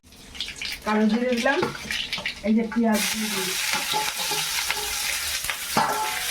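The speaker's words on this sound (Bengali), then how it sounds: "তেলের মধ্যে কালো জিরে দিয়ে পেঁয়াজ আর লঙ্কা দিয়ে দিলাম" Nigella seeds, onion and green chili drop into hot oil partway through and break into a bright, continuous sizzle, with voices chatting in the kitchen before and during the frying.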